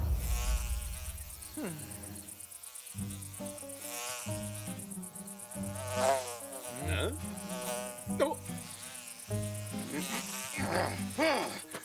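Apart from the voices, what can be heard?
fly buzzing around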